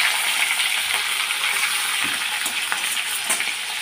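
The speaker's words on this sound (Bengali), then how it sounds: "সবগুলো মাছ আমি এভাবে ভাজবো" Rohu fish pieces frying in hot oil in a pan, a steady dense sizzle throughout with occasional pops and crackles, close up and with no voices.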